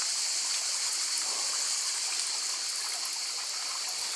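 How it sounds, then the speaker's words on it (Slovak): Small mountain waterfall on Thassos, steady flowing water with constant bright hiss and splash, close and fairly loud, no voices. "A tu asi by to bolo nejaký ten pekný vodopád."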